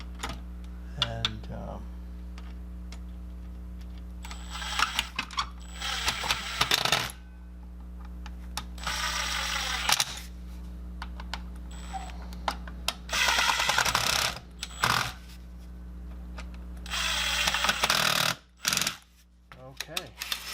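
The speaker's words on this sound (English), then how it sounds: "so we just get the 4 screws in" Four screws are driven into the housing of a Makita 5007F circular saw, giving bursts of close buzzing and metallic clicking with pauses between them, over a steady electrical hum and occasional talk.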